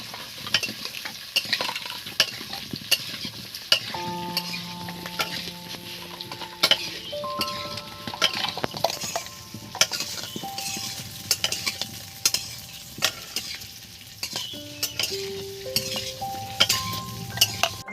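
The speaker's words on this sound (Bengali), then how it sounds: "এবার আলুগুলো ভালো করে ভেজে নেব।" Potatoes frying in oil in a pan for a potol chingri dish, a continuous sizzle broken by repeated spatula scrapes and clinks against the metal, with a few faint tonal rings from utensils and no talk.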